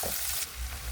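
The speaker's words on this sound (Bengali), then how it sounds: "পেঁয়াজগুলো ভেজে নেব।" Chopped onions and chillies sizzling in hot oil in a kadai, a close, dense crackling hiss that dips briefly midway and then continues.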